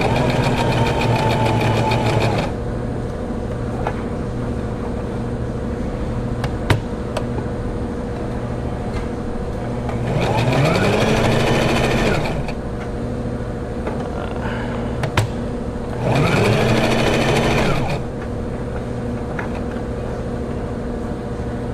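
A Brother XL3750 sewing machine runs a stitch test in three separate bursts of rapid mechanical whirring, each about two seconds long, with quieter background hum between them.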